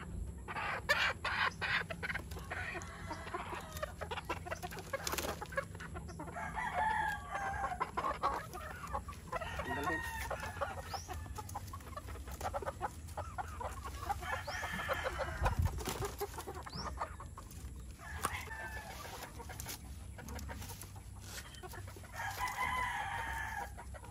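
Chickens cluck repeatedly around a farmyard of battlecross breeds, with a rooster crowing a few times at moderate distance over a low background hum.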